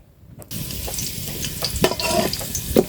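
Asafoetida and garlic fry in hot oil in a pan, a steady loud close sizzle that starts abruptly after a short quiet moment, with a few brief stirring clinks and scrapes.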